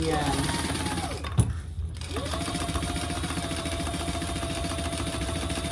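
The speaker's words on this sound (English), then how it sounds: "fold that seam to the bottom side and do a row of top stitching there" A sewing machine runs steadily, top stitching a seam on a fabric bag, with a brief pause after about a second before the even whirring hum resumes.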